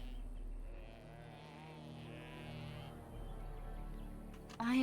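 Halla's mournful cry in Dragon Age: Origins, a long, low, wavering moo-like call held for several seconds over faint background ambience, ending in a short sharper sound.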